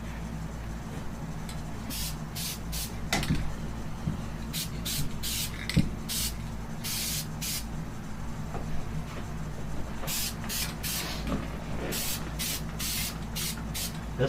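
Spray paint hisses out in short and longer bursts, a dozen or so blasts with pauses between, over a low steady background hum.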